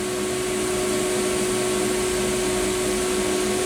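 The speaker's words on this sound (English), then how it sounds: "hot air is already in action, and I start to heat it carefully from a distance a little bit" A hot air rework station blows steadily while heating a component on an ADALM-PLUTO SDR board during a TCXO swap, giving a constant airy whoosh with a fixed tone, close and loud throughout.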